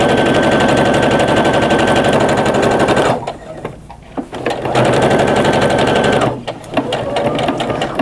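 Domestic sewing machine running a seam along a pillowcase, a fast dense whirring chatter that runs loud and steady, drops off briefly twice as the stitching pauses, then resumes at full speed.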